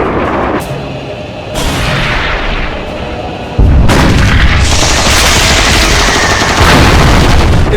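Loud naval gunfire and booming artillery in rapid bursts in a film battle, heavy blasts layered with volleys of shots that swell into a dense, continuous barrage.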